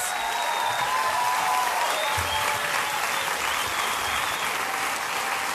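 Loud, sustained applause from a studio audience at a German late-night TV show after a performance by a band, a dense steady roar of clapping with no talk.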